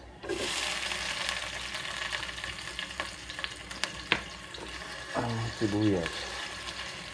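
Onion frying and being stirred in a hot pan for chicken adobo, a loud steady sizzle up close with scraping stirs and clinks, and a voice briefly heard over it near the end.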